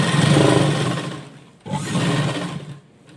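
A sewing machine stitches along a frock pocket, a loud steady mechanical whirr that pauses briefly and then resumes for another run.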